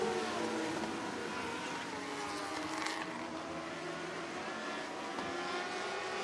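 IMCA modified race cars roar on a restart at Sunset Speedway Park, a dense, steady wall of engine noise from several cars at once, loud and continuous with layered rising engine tones throughout.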